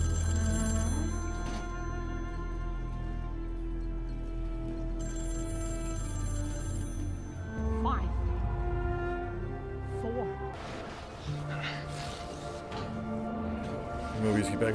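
A telephone bell rings repeatedly in a scene from the Loki TV series, its insistent ringing carrying through layered music and effects while a voice talks over it.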